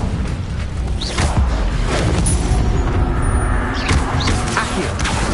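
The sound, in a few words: Incendio fire spell in Hogwarts Legacy video game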